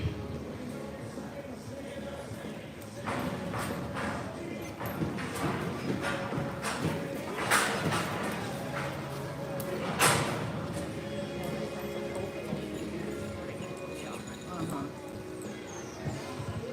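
Horse hooves thud and clop on the dirt of a reining arena during a junior youth reining and cattle boxing class, with scattered louder impacts, under an announcer's voice and crowd noise.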